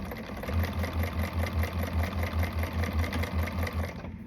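A sewing machine stitches a bag seam while making an Allegra pattern bag, running in a steady, fast, rhythmic whir close by for about four seconds, then stopping abruptly.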